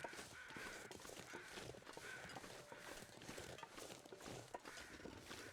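Crows cawing in the survival video game The Long Dark, set in a foggy wilderness, heard as repeated harsh calls over a dense, steady ambient bed of wind-like noise, with soft footstep crunches mixed in.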